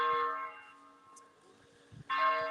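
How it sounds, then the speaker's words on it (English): Church bells ring at St Albans Abbey, two strikes separated by a quiet decaying hum, heard at a distance and moderately loud. "The bells, the bells, the bells."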